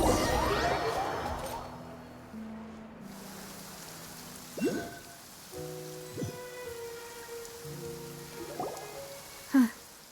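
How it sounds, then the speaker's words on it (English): Steady rain falls in a Genshin Impact game scene, with a soft, continuous patter and occasional drips under tonal music and game effects. "It's been raining non-stop for a few days now."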